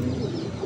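A male Afshan Grizzle racing pigeon gives a short, soft, low cooing call, heard close and alone in a brief burst.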